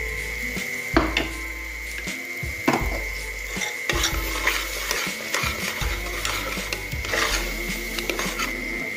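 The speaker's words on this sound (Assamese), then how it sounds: "এতিয়া আমি ইয়াত দিম আমি যিখিনি মছলা পিচি লৈছিলোঁ সেই মছলাখিনি" Ground spice paste goes into sizzling mutton curry in a pan, with a steady fry hiss and repeated scraping, stirring knocks of a utensil against the pot.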